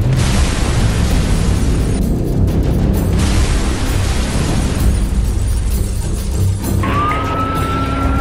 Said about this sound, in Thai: นั่นคือแรงระเบิดที่ออกมาจากโกดังแห่งนี้ค่ะ